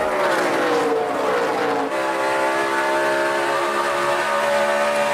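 NASCAR Cup cars at Atlanta Motor Speedway race side by side, a loud continuous high-pitched engine roar with a sliding pitch as the pack passes, sustained and dense with no voices.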